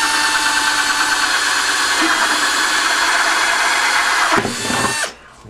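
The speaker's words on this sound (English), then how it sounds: "we're going to drill a hole in the bottom of this bucket right here" A power drill bores a hole through the bottom of a plastic bucket, a steady loud whine holding for about four seconds before the bit breaks through, stutters and spins down to quiet.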